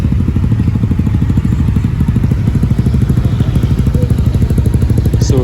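Motorcycle engines rumble loudly and continuously at a busy bike meet in Japan, a close, throbbing low idle with a steady pulsing beat throughout.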